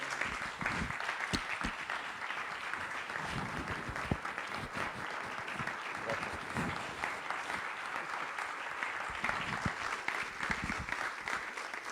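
An audience at the opening session of a press freedom conference applauds a journalist, with steady, sustained clapping at moderate volume holding throughout, mixed with faint crowd murmur and no voice above it.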